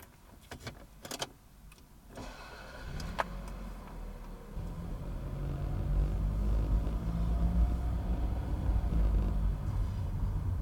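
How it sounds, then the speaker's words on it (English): 1996 Toyota Caldina 2.0 TZ 4WD driving in a parking garage: a few clicks and rattles at first, then a low engine rumble and road noise building and holding steady inside the cabin. "let's go for a little drive in this Toyota Caldina."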